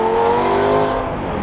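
A 25-year-old Lamborghini Gallardo supercar engine holds a loud, steady high rev close by, its harmonic drone sustained throughout with no talk.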